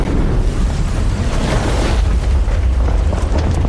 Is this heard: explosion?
yes